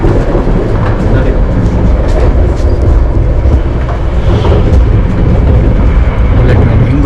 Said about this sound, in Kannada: ಬುಲೆಟ್ ಟ್ರೈನ್ ಹಿಂಗೆ ಹೋಗ್ತದೆ, ಎಷ್ಟು ಸ್ಪೀಡ್ ಹೋಗ್ತದೆ ನೋಡಿ